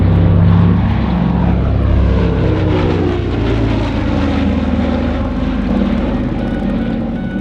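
A Lockheed Super Constellation propeller airliner making a low 200-foot banking flypast at an airshow, its piston engines and propellers producing a loud, sustained droning roar that shifts in pitch as it passes.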